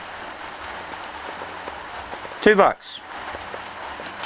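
A stainless steel bowl is handled in one brief burst of clattering metallic rattles and rings, loud and close, set between quiet stretches of room noise.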